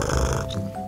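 A voice imitates a loud, rough snore, a single drawn-out snorting breath up close.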